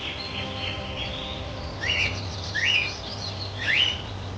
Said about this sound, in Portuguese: Quando o sol brilha no dossel mais alto da floresta amazônica, é quando os pássaros começam a cantar.